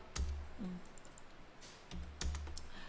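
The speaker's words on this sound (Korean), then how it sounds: "왼손으로 키보드 접고 엔터도 치고 오른손으로 더블 클릭해서" A few quiet clicks and taps, like keys and a mouse button, sound in a small quiet room with low hum during spreadsheet cell-formatting work.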